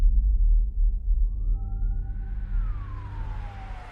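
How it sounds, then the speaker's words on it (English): An emergency vehicle siren rises slowly in a single sweeping tone, then falls away, over a low rumbling background, heard as an ambulance sound effect. "After an ambulance arrived and took Becky to the hospital"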